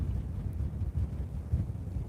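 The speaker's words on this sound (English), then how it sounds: "It's a bit windy, isn't it?" Wind blowing over the microphone on a walk at the mouth of the Humber estuary: a steady low rumble with gusty buffeting, loud and close, with no talk.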